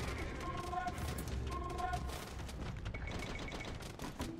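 Age of Empires battle from the Jan Zizka campaign, with bombard cannons and gunfire crackling in rapid, dense volleys under game music tones and a faint voice.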